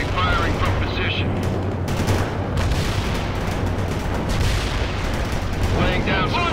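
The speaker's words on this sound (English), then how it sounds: "Bradley firing from position." Bradley armored vehicle firing its cannon in World in Conflict, a dense continuous roar of gunfire and battle noise across the whole stretch, loud and close.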